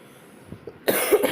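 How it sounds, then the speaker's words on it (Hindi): A single sharp cough bursts out close and loud after a quiet stretch of faint room noise, trailing into a brief rough follow-up. "थोड़ी मेरे को खांसी ज़्यादा है"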